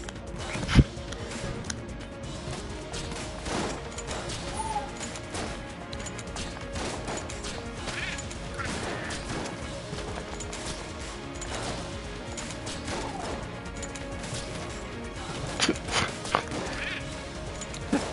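Gunfire in the video game Enter the Gungeon comes as scattered sharp shots and crashing impacts in irregular bursts over a steady, busy game backdrop. Some are loud, close spikes and others are softer pops.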